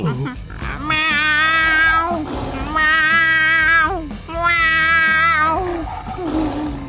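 A person imitates a cat, letting out three long, drawn-out meows one after another, loud and close.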